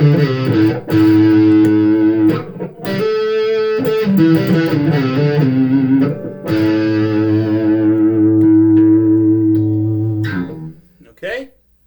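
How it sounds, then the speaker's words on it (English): Distorted electric guitar picks out single notes one after another, each ringing and sustaining with a gritty effects tone, fairly loud and close, with a brief pause partway through and the sound cutting off near the end. "Much of a difference when the distortion is on, but we'll play some single notes."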